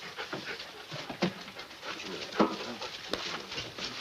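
A dog pants in a 1948 film noir, quick rhythmic breaths with a few sharper bursts, heard close in an old, hissy soundtrack.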